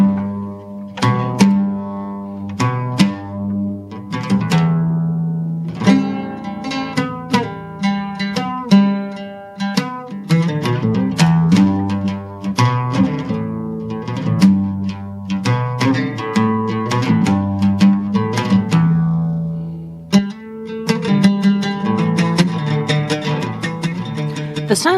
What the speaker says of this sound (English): or more commonly, the lute or the oud.